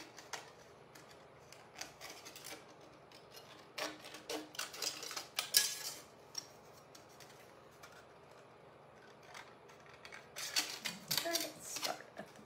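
Someone cuts out a thin Dollar Tree cookie sheet, producing scattered clicking snips and scraping bursts that come in short clusters, faint and close, with quiet gaps between them.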